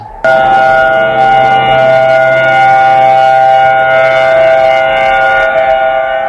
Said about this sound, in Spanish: En la central de alerta de Oregón, otra sirena sonando en mitad de la noche.